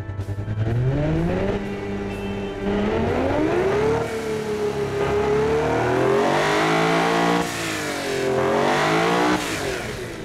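Simulated car engine with dual exhaust from the game Automation, revving up and down repeatedly with rising and falling pitch, loud and unbroken with no talking.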